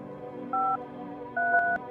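Touch-tone telephone dialing in the video game No, I'm not a Human: two distinct DTMF key tones, clean and close, over a quiet low ambient hum.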